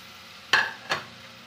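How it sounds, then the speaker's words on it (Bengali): Dhokla tempering with chaat masala, lemon juice and sugar gets stirred in a pan, with two short scraping strokes of a spoon against the metal over a quiet background. "একটু নেড়ে চেড়ে নিতে হবে।"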